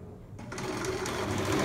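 A sewing machine stitches a seam on a lace blouse, starting after a brief quiet moment and then running steadily and close with a rising, continuous whir.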